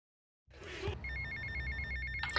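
A telephone ringtone trills in the video game GTA Vice City, starting after a brief silence and ringing steadily over a low engine rumble, with no one speaking.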